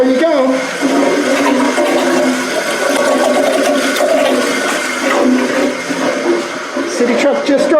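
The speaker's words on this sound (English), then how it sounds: "so you can hear the water still running" Water keeps running in a faulty toilet that won't stop filling, a loud, close, continuous rushing and hissing with a steady churn throughout and no one talking.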